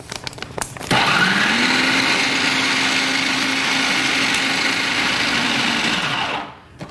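A food processor blends dates and chocolate for energy bites: a few short clicks, then a loud, close motor whir that runs steadily for about five seconds before spinning down.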